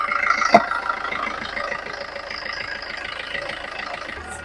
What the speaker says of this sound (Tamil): டீசல் இன்ஜின் தான்.